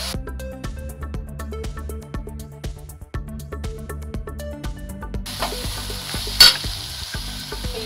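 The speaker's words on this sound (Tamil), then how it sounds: "ஸ்கில்லட் வந்து இப்போ சூடாயிடுச்சு. இப்போ ஆனியனை போட்டுக்குவோம்" Chopped onions hit a hot, oil-free skillet for chicken biryani, and a steady frying hiss rises partway through, over a background of tonal music.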